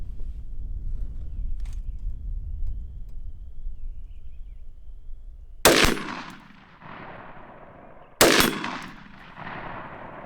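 Two loud rifle shots ring out at an outdoor range while a Sightmark Core Shot A-Spec sight is zeroed, each sharp crack followed by a long fading echo, separated by a few seconds of quiet ambient noise.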